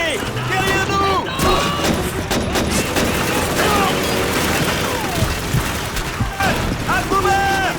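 MG42 machine gun fire during a Call of Duty 2 battle, steady loud gunfire and explosions running throughout under shouted voices.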